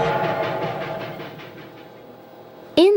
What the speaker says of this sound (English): These electric motors turn the wheels that pull the train.